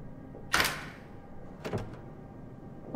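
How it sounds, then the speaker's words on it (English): A door opening in the horror game Amnesia: The Bunker: a sharp mechanical clunk and scrape, then a second rattling thud a second later, close and loud against a quiet background, no voices. "Oh, why does the door open this way?"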